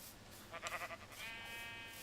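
A sheep in the video game Minecraft gives a single short wavering bleat, close and clear over a faint steady background hum.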